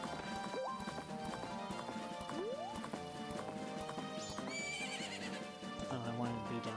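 Horse whinnies and neighs over a steady clip-clop of galloping hooves in the video game Majora's Mask, set against busy layered game music and effects.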